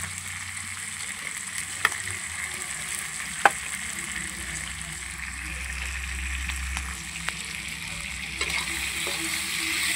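Pork frying with red chili masala for an Assamese dish sizzles steadily and close, with occasional sharp clicks as it is stirred, no voices.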